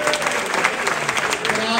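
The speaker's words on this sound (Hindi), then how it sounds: "भरपूर तालियां होनी चाहिए।" Audience applause at a gym bodybuilding competition, a steady broadband patter of many hands clapping throughout, fairly close, with crowd noise and a voice mixed in.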